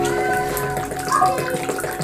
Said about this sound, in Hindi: थोड़ा सा मैं पानी डालता हूँ उसमें।